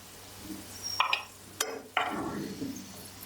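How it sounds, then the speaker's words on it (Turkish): Potatoes and köfte meatballs fry in a pan with a low steady sizzle, broken by a few sharp clinks and scraping stirs of a utensil against the pan, with no talk. "Onları da biraz kızartacağım."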